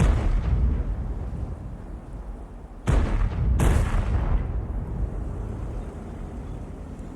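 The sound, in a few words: tank guns blind firing in World of Tanks video game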